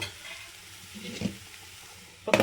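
Carrot curry being stirred in a pan with chili powder, a quiet steady sizzle with soft scraping strokes and one louder clatter of the spoon near the end; no talking.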